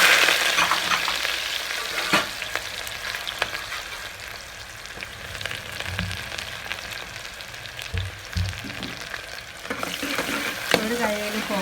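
Onions and fenugreek seeds fry in a pan, giving a steady, close sizzle broken by stirring scrapes and a few clinks of the utensil against the pan.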